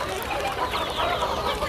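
Local hens cluck steadily on a hen farm, a dense overlapping flock chatter close by that fills the whole stretch with no talk.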